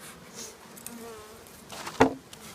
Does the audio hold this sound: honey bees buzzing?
yes